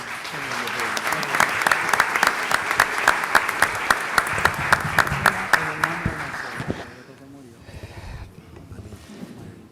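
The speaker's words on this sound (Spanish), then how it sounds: "Un fuerte aplauso, por favor." Loud, sustained applause from a debate audience fills most of the clip, with sharp claps standing out, then fades into quieter room noise near the end.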